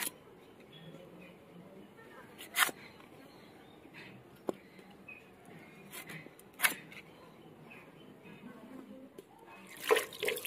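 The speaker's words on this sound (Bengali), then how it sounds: "আবারও জল ঢেলে দিলাম।" Water is poured over cut raw jackfruit in a kitchen, giving soft splashing and trickling with a few sharp knocks and clatters from handling the bowl, set against quiet room noise.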